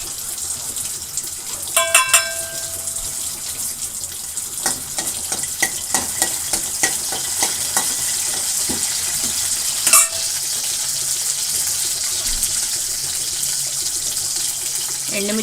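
Garlic dropped into heated oil crackles and sizzles loudly up close, with a few sharp spatters early on, then settles into a steady hiss with occasional stirring clinks.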